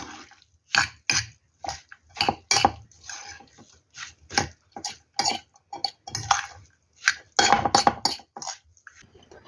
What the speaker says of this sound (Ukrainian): І це все гарно змішую.